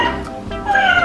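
A plush remote-controlled walking cat toy with a pink collar and leash gives a close, clear electronic meow that rises into a drawn-out tone.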